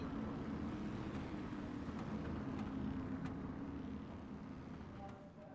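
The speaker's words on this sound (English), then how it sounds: "All right, pace car leaving at the track." Dirt street stock race cars idling and rolling behind a departing pace car at Lernerville Speedway in iRacing, a steady engine drone with a low hum that eases slightly near the end.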